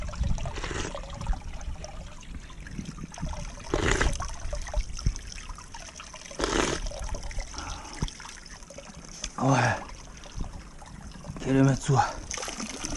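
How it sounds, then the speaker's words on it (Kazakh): Artesian spring water trickles and splashes on the Kazakh steppe, a steady running dribble with several louder gushing bursts, while people talk nearby. "Artesian water, so nice, so good."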